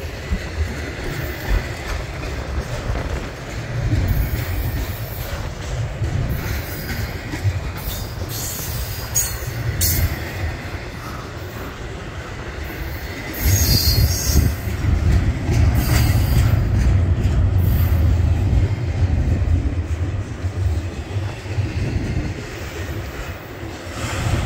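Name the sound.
slow-moving Union Pacific train passing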